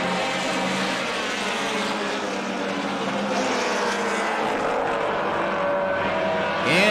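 Compact race cars at a Midwest Compact Series feature race, a steady, dense roar of several engines revving together on the track, fairly loud and continuous, with one car's pitch rising near the end.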